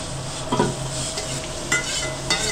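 Chopped onion fries in hot oil with cumin and mustard seeds for kanda poha, giving a steady close sizzle, with a few scrapes of a spoon stirring the pan.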